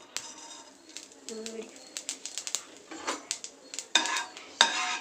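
Mustard and cumin seeds stirred in a pan, with sharp metallic clinks and scraping taps in an irregular rhythm, plus a few faint popping crackles.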